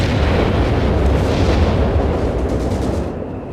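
Explosion destroying a Pak anti-tank gun in the Company of Heroes 3 strategy game, a dense, loud rumbling blast that holds steady before fading out over a few seconds, with no talk.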